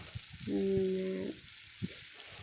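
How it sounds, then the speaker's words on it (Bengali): Meat fries in a pan with a soft, steady sizzle, while a short tonal hum and a few faint clicks and knocks come from the kitchen nearby. "তো এবার ভেজে নেব"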